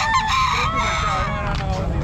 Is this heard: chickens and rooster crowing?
yes